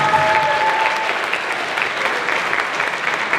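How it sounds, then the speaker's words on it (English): A school band concert audience applauds students, dense continuous clapping that stays loud and even throughout, with a faint cheer near the start. "Let's give these students a big round of applause."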